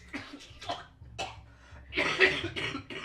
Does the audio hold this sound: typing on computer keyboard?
no